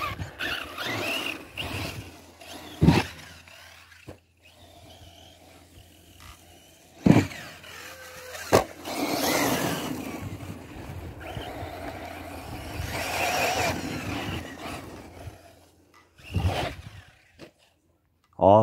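A Hobao Hyper VSE RC car runs in bursts on tyre test, its motor squealing and whining with sharp spikes of tyre and chassis noise, loud at moments, amid some background voices.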